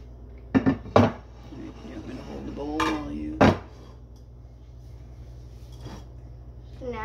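A metal cake pan is picked up and set down during home baking, producing a few sharp clanks and knocks near the start and middle, with brief background voices between them.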